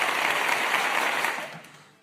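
A short burst of applause from a small group, dense clapping that fades out within about two seconds.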